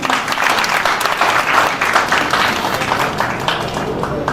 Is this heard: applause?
yes